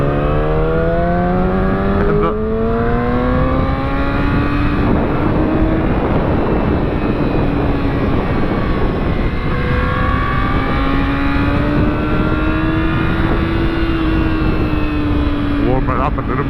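A motorcycle engine warming up, running loud and steady throughout with slow rises and falls in revs, close to the microphone.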